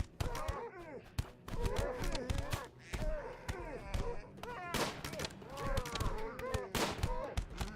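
RimWorld gunfire crackles in quick, irregular bursts at moderate volume, mixed with game sounds, while people talk over the shooting.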